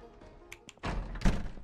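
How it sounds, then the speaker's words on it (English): Heavy thuds land on a door in Project Zomboid as a zombie bangs on it, two loud close impacts after quieter ambience. "somebody is rhythmically banging the friggin' door"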